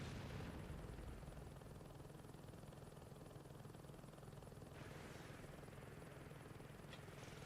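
A Saints Row 2 video game helicopter during a heli assault drones with a continuous low, thudding rotor rumble and hiss, steady and faint throughout, with a brief swell partway.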